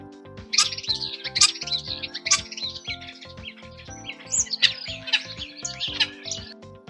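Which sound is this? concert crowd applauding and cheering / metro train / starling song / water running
starling song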